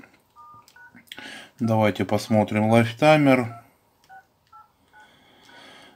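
Keypad tones from a 2010 Nokia X2-00 phone as the *#06# code is dialed, a few short separate beeps before and after a stretch of talk, close and clear.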